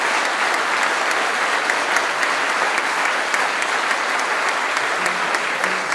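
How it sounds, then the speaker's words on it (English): An audience at a panel event in a theatre applauds steadily for several seconds, dense clapping close and loud with no speech over it. "Let's give a round of applause to our panelists."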